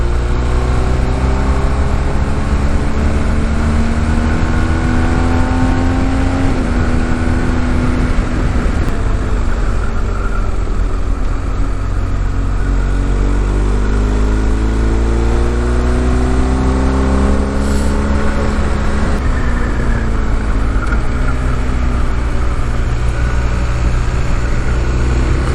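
Cars on a Black Forest road, heard as a steady loud roar of engine and rushing road noise, with engine tones rising and falling as vehicles accelerate and pass close by throughout.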